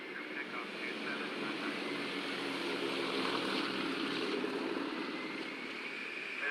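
An airplane taking off from a runway in an airport simulation game, a continuous engine drone that swells gently and then holds steady, with a voice speaking over it.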